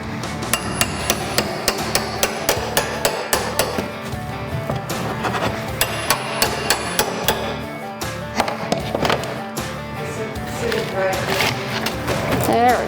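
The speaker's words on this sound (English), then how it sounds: "I'm trying to rip off the drywall so that I can access this right here." Drywall is hammered and ripped away during a condo demolition, with sharp, rapid hammer blows repeating steadily up close, mixed with crumbling and scraping debris, while a person talks throughout.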